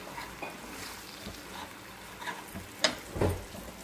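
Spaghetti stir-fried in a pan with sweet and sour sauce and oregano, a low steady sizzle with a couple of sharp clinks and stirring scrapes near the end.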